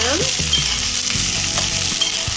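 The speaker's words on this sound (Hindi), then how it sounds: "अभी हम इसमें भिंडी को फ्राई करेंगे। इसको हाई फ्लेम पे 2 मिनट तक हम" Okra (ladyfinger) fries in hot oil on a high flame, a loud, close, continuous sizzle and crackle with occasional stirring clinks and scrapes.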